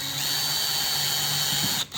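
A power drill bores a pilot hole in a motorcycle fairing windshield, a close, steady high whine running for about two seconds before abruptly cutting out.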